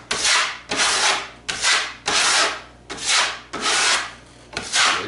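Drywall compound is spread and scraped across a flexing drywall ceiling in about seven rhythmic, close, rasping strokes, each a swelling scrape with brief gaps between, and no talk.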